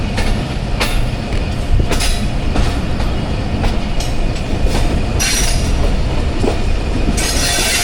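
Passenger train on the Awam Express running downhill from Golra Sharif Junction, wheels grinding and screeching on the rails like a grinder cutting pipe, with sharp rhythmic clacks over a loud, continuous rumble.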